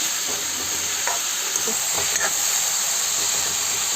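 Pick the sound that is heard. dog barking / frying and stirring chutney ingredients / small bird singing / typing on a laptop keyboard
frying and stirring chutney ingredients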